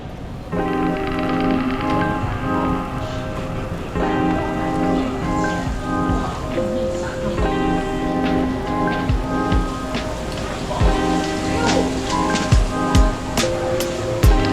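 Steady rain falls over a market area in Kyoto on a wet day, a continuous broadband wash beneath layered tonal background sounds, with sharper drip-like clicks and splashes growing more frequent toward the end.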